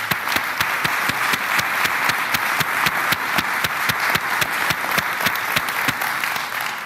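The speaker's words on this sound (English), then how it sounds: "I wonder if you would join me in giving these two gentlemen a welcome and a round of applause today." A church audience at Valley Presbyterian Church claps in a strong, even rhythm to welcome two debaters, a sustained, fairly loud round of applause from a full room with no talking over it.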